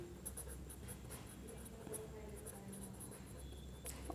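Writing on a board during a signals lecture, faint scratchy marker or chalk strokes in quick repeated bursts, alongside a soft squeak and low room hum, with no voices.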